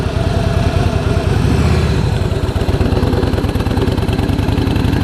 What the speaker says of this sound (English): As far as the Fat Boy S is concerned, I'm sitting, this is a completely different ride than my Fat Bob for sure.